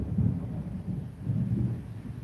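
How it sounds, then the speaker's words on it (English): Thunder rolls in a low, deep rumble that swells twice over a couple of seconds, moderately loud and sustained, with faint rain behind it and no voices. "we go for months without any thunder and lightning"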